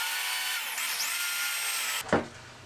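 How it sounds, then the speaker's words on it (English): A power drill with a 1-inch Forstner bit bores a hole in a wooden panel, a loud steady whirring grind for about two seconds. The motor then stops with a sharp knock as the bit is pulled free. "I used a 1-inch Forstner bit to drill a hole at each mark."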